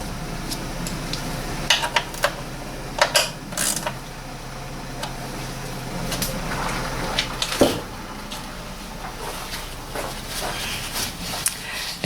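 Sump plug bolt on a 2004–2011 BMW E87 116i being refitted with a new copper washer: scattered close metallic clicks, taps and ratchety mechanical ticks spread through a low, steady background hum, no talking.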